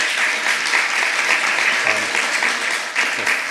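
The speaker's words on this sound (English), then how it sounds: "Round of applause for all the speakers." Steady, dense applause fills a conference hall as the audience claps for the speakers at a cancer research event, loud and continuous throughout.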